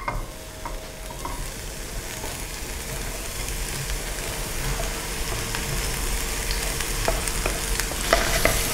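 Chopped onion sizzles in hot oil in a pan, the sauté base for a quiche filling, a close, steady crackling hiss with light stirring and scraping throughout.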